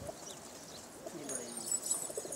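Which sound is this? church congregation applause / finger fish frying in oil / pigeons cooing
pigeons cooing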